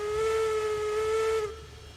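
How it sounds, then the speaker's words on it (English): Steam locomotive whistle in the train game Railroads Online, one steady loud tone held alone for about one and a half seconds, then cut off, leaving a faint hiss. "The whistle's quite fiddly to use, I find."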